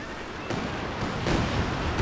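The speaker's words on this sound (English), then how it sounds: "Well targeted barrage there from the Werfer" Nebelwerfer rocket artillery in Company of Heroes 2 lands as a barrage of several heavy booming impacts in quick succession, each one a broad rumbling blast over continuous battle noise.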